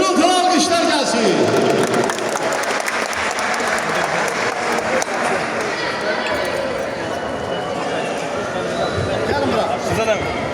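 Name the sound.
loud audience applause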